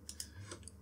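A few scattered keyboard keystrokes on a computer while working in Maya, soft, close and quiet, with irregular clicks spaced across a short stretch.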